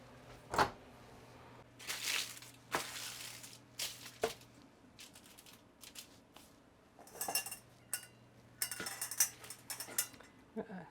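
Roasted-style pumpkin seeds being scooped out of a metal strainer in a kitchen, producing scattered, close scraping, rattling and clinking bursts of varying loudness separated by short quiet gaps.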